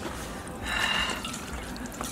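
Roughly twenty litres of water poured into the petrol tank of a motorbike, a short splashing gush that swells for about half a second and then settles into a quieter trickle.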